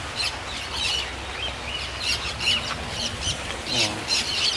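Birds in an aviary chirp and call in overlapping bursts at moderate distance, with some deeper honk-like calls and faint voices in the background.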